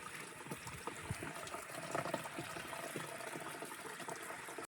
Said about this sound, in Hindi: ये तीसरी ढोल की है जो इससे पानी भर रहा हूँ।